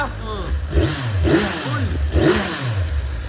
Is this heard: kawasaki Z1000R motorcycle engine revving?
yes